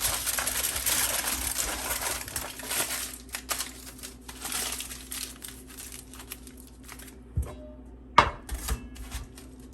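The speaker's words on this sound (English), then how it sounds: "Wrap it well with aluminum foil." Aluminum foil crinkles and rustles as it is wrapped tightly around a cut potato base while preparing homemade chicken shawarma. A dense, close crackling fills the first few seconds, followed by quieter handling and a few sharp taps.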